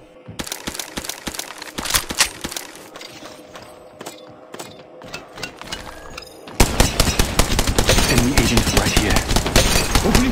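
Rapid bursts of automatic gunfire from an Apex Legends Mobile battle royale match, with dense, loud volleys that grow heavier and more continuous in the second half, mixed with game sound effects and a faint voice.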